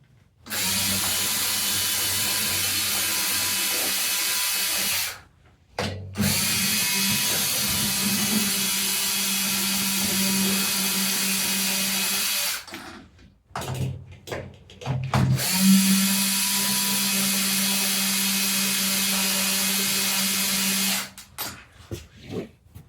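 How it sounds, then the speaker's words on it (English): A DeWalt power drill fitted with a lug chuck backs screws out of drum lugs on a drum kit, whirring steadily in close, loud runs of several seconds each, broken by brief pauses and a ratcheting clatter between bursts. "You're using a power device to pull the lugs off."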